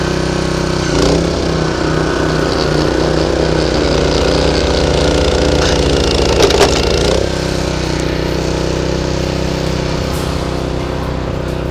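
A Honda HS 622 snow blower engine runs continuously at close range, a loud chugging drone with a steady pulse, briefly surging around the middle as snow is thrown.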